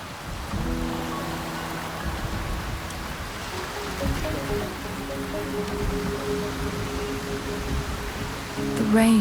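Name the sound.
rain in Wuthering Waves video game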